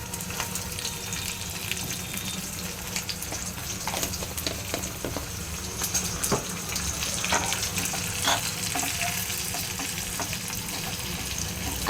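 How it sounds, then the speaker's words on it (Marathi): A tadka of ghee with mustard seeds, cumin, green chili, garlic and curry leaves frying in a pan, a steady sizzle with scattered pops and crackles and occasional stirring, no voices. "आपण या तडक्यामध्ये तूप घेतलं आहे 3 चमचे. तूप नंतर राई, जिरं, हिरवी मिरची, लसूण आणि कढीपत्ता,"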